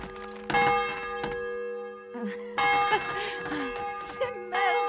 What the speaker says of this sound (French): sonne les cloches, la gueuse.